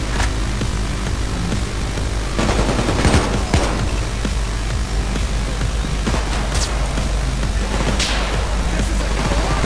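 Gunfire in the video game Payday 2 sounds as a few sharp sniper shots and scattered bursts over a constant loud droning game background, with the shots heard at a distance rather than close up.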